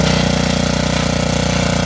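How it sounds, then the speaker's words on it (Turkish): A homemade mini tractor built from scrap parts, with a 6-horsepower engine, runs steadily during a test, giving a loud, close, continuous chugging drone with a fast regular thump throughout. "Ve şu anda mini traktörümüzde bir test ettik."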